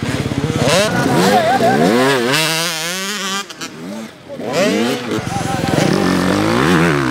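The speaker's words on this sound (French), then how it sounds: "passe tes vitesses sur la 125, impose-lui des vitesses à ta moto" A 125cc motocross motorcycle revs hard close by, its engine pitch climbing and dropping in repeated sweeps as it shifts through the gears, with a brief lull in the middle.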